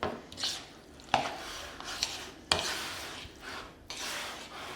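Egg salad being mixed in a bowl, with yolks mashed in: soft scraping and rubbing strokes punctuated by a few sharp utensil taps against the dish, close and fairly quiet.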